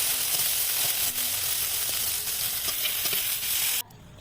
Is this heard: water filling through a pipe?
no